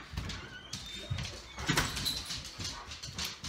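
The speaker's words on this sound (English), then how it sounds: "What do you want, dogs?" Dogs at a house's back door whimper and whine in short, soft bursts, close by, with some scratching and shuffling noises around them.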